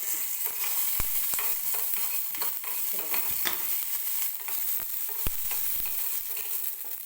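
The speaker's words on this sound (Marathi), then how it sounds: "अगदी थोडंसं तेल टाकायचं मिरची भाजताना तेल टाकल्यानंतर मिरच्या अशा उडतात" Green chillies and peanuts roast in a little oil in a pan, giving a steady loud sizzle and crackle throughout, with sharp pops and stirring scrapes standing out now and then.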